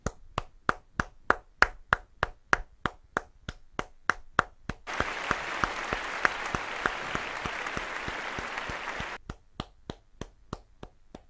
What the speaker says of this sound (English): I'm here clapping like Graham Norton and everything's going pear-shaped.